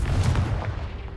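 A fiery spell explosion in the Hogwarts Legacy video game hits as a single heavy, close boom with a deep low-end punch that fades quickly over about a second.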